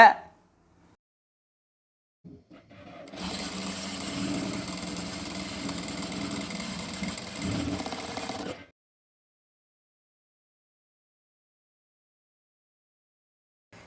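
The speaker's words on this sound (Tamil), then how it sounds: "நான் ஹெம்மிங் ப்ரெஷர் ஃபுட் யூஸ் பண்ணி துணியோட ஓரத்தை ஹெம்மிங் பண்ணுறத பார்க்குறீங்க" Sewing machine hemming a fabric edge with a hemming presser foot, a steady whirring motor run of about five seconds after a few brief clicks, close and isolated between silences.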